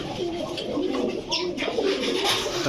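Pigeons coo at close range, Giribaz, coloured and racer breeds kept in pairs, with soft repeated warbling calls over a constant room background and brief bits of nearby human voice.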